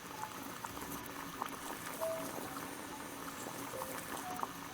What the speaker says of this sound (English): You can take this off the boil also.